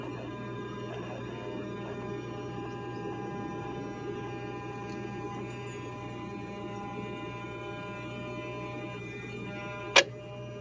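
Electronic throttle actuator on a Mercedes 600SL engine running on the bench, a faint steady hum with soft periodic ticking throughout and one sharp click near the end.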